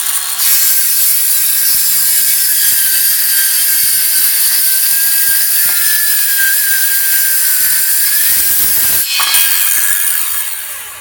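A secondhand circular saw fitted with a cheap Harbor Freight blade rips along the edge of a wooden table top, a loud, sustained high whine of cutting wood that cuts off abruptly near the end.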